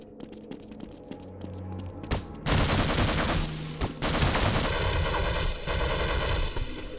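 Heavy automatic gunfire in Half-Life, starting after scattered quieter game sounds, then bursting into loud sustained fire with a short break midway before resuming.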